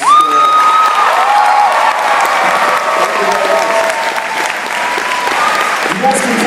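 Audience at the Winterfest 2011 festival gives the band a sustained round of applause, loud and even throughout, with scattered cheers and voices mixed in.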